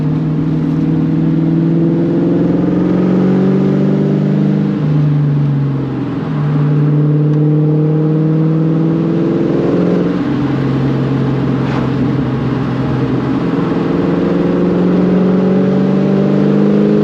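A Ford Mustang engine revs hard and loud through repeated rising and falling pulls, with brief dips between gear changes, driven hard on a rainy road.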